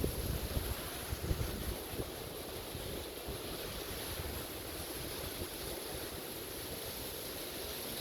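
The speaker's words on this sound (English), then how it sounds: "There's the waterfall, see it?" A waterfall by a mountain road near Grandfather Mountain, North Carolina, produces a continuous broadband rushing roar, steady and fairly distant, with some wind buffeting on the microphone and no voices.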